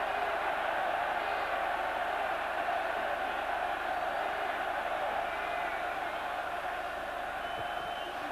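Sustained roar of the home rugby crowd at Cardiff Arms Park urging on Wales against Ireland in 1983, a broad, continuous swell of cheering and chanting from a packed stand.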